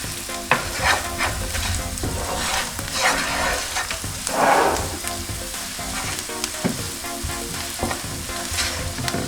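Basil and cayenne being stirred into a sizzling pasta sauce for a salmon pasta bake: a constant loud frying hiss broken by repeated utensil scrapes and clinks against the pan, with no voices.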